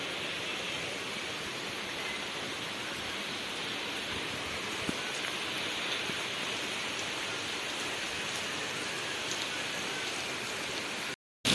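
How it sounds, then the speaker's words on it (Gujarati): Heavy rain pours steadily in the afternoon over farmland with cotton fields, a dense continuous hiss with no voices, holding even and close for about eleven seconds before stopping abruptly. "વરસાદ ચાલુ થઈ ગયો છે"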